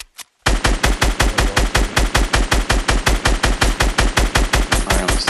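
Fortnite automatic weapon firing at enemies in a duo battle royale match, a brief opening shot then a long, steady, evenly spaced stream of loud, close shots, no voices.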